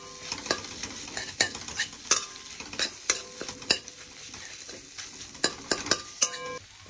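A spatula stirs egg fried rice with fried potato and onion in a hot pan, sharp scraping clicks repeating in an uneven rhythm over a soft steady sizzle, close and clear with no talk.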